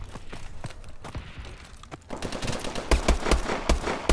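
Rapid automatic gunfire from a Call of Duty: Advanced Warfare Search and Destroy match, bursts growing louder and denser in the second half, with sharp close shots near the end and no talk.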